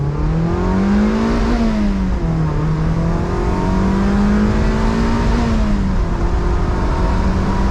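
A Mazda Miata NC with a stage 1 clutch and light flywheel, engine droning loud and steady from inside while driving, pitch rising and falling gently as revs shift on a twisty road.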